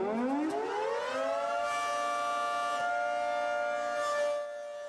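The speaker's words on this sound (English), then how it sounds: "The siren in the center of town is back on today" A town fire siren winds up from a low pitch to a loud steady wail and holds it, with the tone easing slightly toward the end.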